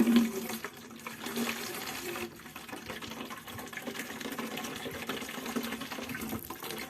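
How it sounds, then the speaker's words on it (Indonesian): Water pours steadily into a jerrycan while a jakaba culture is being prepared, a continuous splashing gush running for several seconds with some of it spilling. "air yang berada di dalamnya ini kita tuang"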